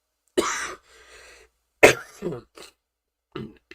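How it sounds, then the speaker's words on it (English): A few short, sharp coughs and throat-clearing bursts close to the mic, separated by quiet pauses. "I feel a cough coming on."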